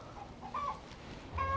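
An older laying hen clucks and cackles noisily after laying her first egg in over a year, with bursts of loud, close squawks at the start and end separated by a quieter pause, outdoors in a chilli garden.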